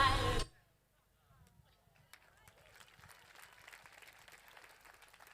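Live outdoor concert crowd at the Note dal Golfo event in Golfo Aranci: a loud burst of audience applause cuts off abruptly at the start, then a softer scatter of crowd noise and clapping lingers in the background.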